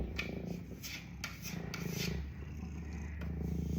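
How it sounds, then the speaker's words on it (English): Rhythmic rasping strokes of sanding, back and forth in quick repeated passes, close by, with a low rumbling cat purr underneath. "Another sanding project."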